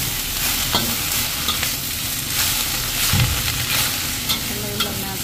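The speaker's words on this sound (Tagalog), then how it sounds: "Haluin lang natin." Choy sum and garlic stir-frying in hot oil, a loud continuous sizzle close up with occasional sharp scrapes and taps of a utensil against the pan as the greens are tossed, with no talking.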